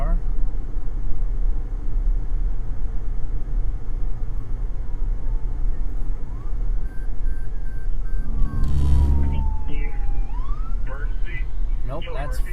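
A fire chief's emergency vehicle comes up fast at night with a rising, wailing siren sweep that swells briefly over steady road and engine rumble from inside a moving vehicle.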